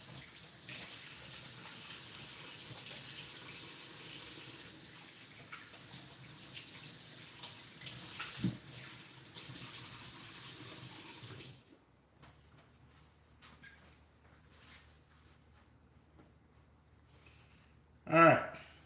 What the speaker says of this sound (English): Let me just wash my hands again here.